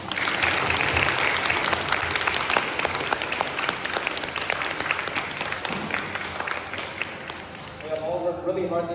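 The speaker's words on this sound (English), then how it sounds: "let's give all of these scouts a big round of applause" Sustained, dense applause from an audience honoring scouts at an Eagle Scout Court of Honor, steady and full for most of the stretch before easing at the end as a voice begins to speak.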